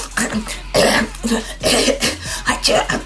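A run of coughs, several sharp bursts in quick succession, close and fairly loud, mixed with throat clearing.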